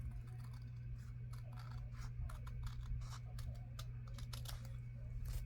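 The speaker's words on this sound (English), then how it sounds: "Now I'll cut this a little straighter." Scissors snipping through envelope paper while trimming a handmade tag straight, a series of quick, quiet cuts and crisp paper crackles at close range.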